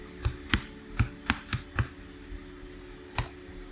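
Several separate keystrokes on a computer keyboard, typing a web address into a browser; about six sharp, close clicks in quick irregular succession, then a pause and one final tap.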